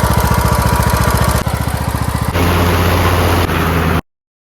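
An old lawn tractor engine with a blown crank seal runs loud and close, its rough, rapid firing pulses shifting in pitch partway through before cutting off abruptly.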